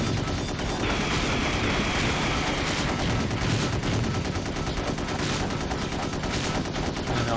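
Dense, continuous machine-gun fire from enemy aircraft in the flight combat game Gun Metal, loud and close, with rapid overlapping bursts and booms that keep going without a break.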